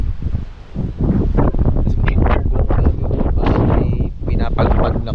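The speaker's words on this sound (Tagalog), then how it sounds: "Grabe yung hangin dito." Strong wind in Batanes blasts across the microphone in heavy, uneven gusts, a loud close roar with rumbling bursts, and a person speaks beneath it.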